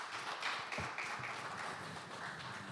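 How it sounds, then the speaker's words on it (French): Faint applause for two speakers at a press conference for the Congo Mokili project, a soft, continuous patter of hands with no talk over it. "Applaudissements vraiment pour nos deux conférenciers"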